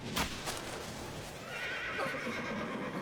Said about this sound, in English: a gust of wind came in and her horse freaked out